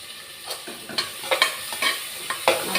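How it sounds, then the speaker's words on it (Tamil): Onion and green chillies with turmeric sauté in a pan, a spatula scraping and stirring in quick rhythmic strokes over a continuous close sizzle. "நல்லா வதக்கிக்கிடலாம்."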